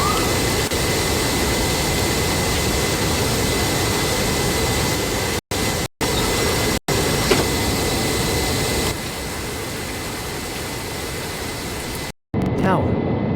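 Jet airliner engines on landing approach with the gear down give a loud, steady broadband roar inside the cabin, broken by a few brief dropouts.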